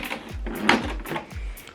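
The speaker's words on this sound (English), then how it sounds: "So open up the printer." Lid of an HP ENVY 6000-series inkjet printer being lifted open: a few soft plastic clunks and scrapes, close and moderately loud, with low thumps repeating across a couple of seconds.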